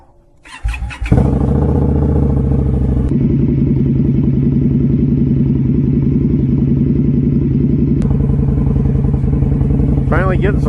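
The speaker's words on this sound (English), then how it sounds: "Let's go ahead and get this bike started up." A motorcycle engine cranks briefly, catches, and settles into a loud steady close-up idle that holds for several seconds, with a short voice at the end.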